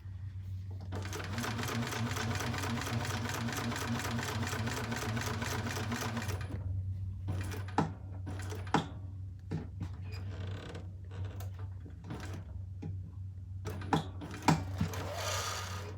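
A sewing machine stitches a crossbody bag in one continuous rapid mechanical run, close and steady over a low motor hum, then stops, followed by scattered clicks and handling taps.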